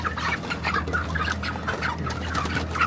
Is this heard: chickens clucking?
yes